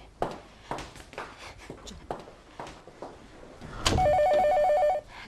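A telephone bell rings in a repeating electronic trill, loud and close, after a stretch of footsteps, handling noises and scattered short sounds.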